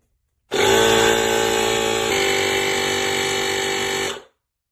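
AMPFORCE electric air-pressure toilet plunger, adjustable from 1 to 8 bar, used to unclog a toilet, giving one loud, steady, buzzing mechanical whir that starts abruptly and runs for nearly four seconds before cutting off.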